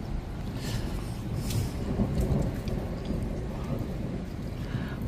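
Heavy thunderstorm over Cheltenham, Gloucestershire, England: steady loud rain hiss and patter with deep rolling thunder rumbling continuously underneath, building to a stronger crack-like swell midway, no voices.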